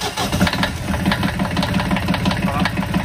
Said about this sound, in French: Donc démarrage du moteur.